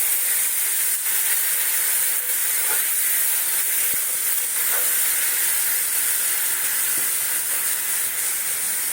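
Water poured into a hot pan holding fish and cornflour as a meat dish for rotis and parathas is cooked, giving a steady, loud hissing sizzle with steam that runs unbroken throughout, with no talking.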